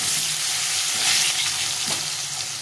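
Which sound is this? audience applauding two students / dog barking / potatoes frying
potatoes frying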